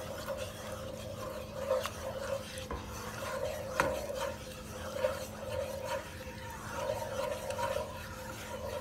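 Cream sauce is stirred in a pan, a quiet repeated scraping and rubbing of a utensil against the pan at a close, low level.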